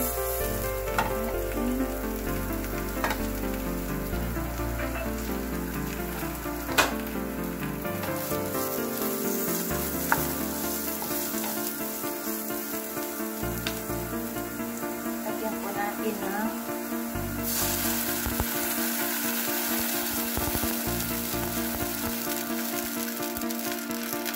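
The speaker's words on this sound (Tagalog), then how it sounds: "So, ayan, kumulo na." Ham and egg sotanghon soup with pechay bubbling in a cooking pot, a steady wet rolling boil with sizzling texture throughout, close and fairly loud, with some background music-like tones.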